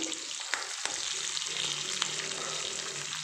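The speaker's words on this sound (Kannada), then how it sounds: "ಇವಾಗ ಕರಿಬೇವು ಕೂಡ ಆ್ಯಡ್ ಮಾಡಿಬಿಡ್ತಾ ಇದ್ದೀನಿ ಅದ್ರ ಜೊತೆಗೆ ಆನಿಯನ್ನು" Curry leaves and onion fry in a pan for shavige, a steady close sizzle with faint stirring scrapes and a couple of small clicks, no voices.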